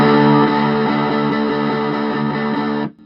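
A Bootlegger Blues 20 combo amp, a Dumble Overdrive Special clone, plays a sustained overdriven guitar chord with a thick distortion tone that rings loudly for nearly three seconds before cutting off abruptly.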